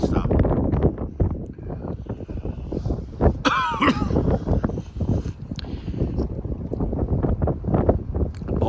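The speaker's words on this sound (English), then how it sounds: "Boy, it is really breezy up here today." Gusty wind buffets a microphone on a breezy riverside, a steady low rumble of wind noise running throughout with brief louder gusts.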